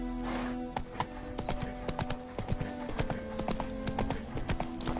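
Roach the horse's hooves pound in a quick galloping rhythm in The Witcher 3: Wild Hunt, crisp and close, with a brief voice layered over the hoofbeats.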